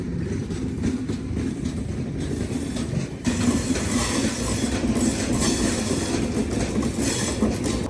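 The Durg–Visakhapatnam Express rolls steadily on the rails as it slows, with a continuous rumble, rhythmic clatter of the wheels and faint squealing, loud and close throughout.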